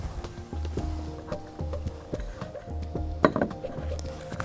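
A kitchen whisk being set aside while making Kunafa cupcakes gives a few light clinks and taps of metal against bowl and counter, close by, amid scattered handling clatter.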